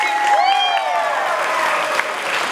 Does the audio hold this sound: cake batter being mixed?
no